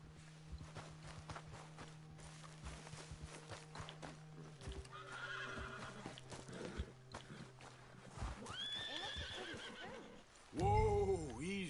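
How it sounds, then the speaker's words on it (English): A horse in the Red Dead Redemption 2 video game whinnies several times over steady clip-clopping hooves, with a louder, closer neigh near the end and a low ambient hum underneath; no speech. "you couldn't help me get my other horse back from over there"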